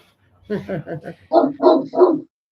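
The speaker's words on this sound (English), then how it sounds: "Oh, I hear a dog man." A dog barks six times close by, first a run of shorter, higher yaps, then three fuller, louder barks, with short gaps between them and no talk over them.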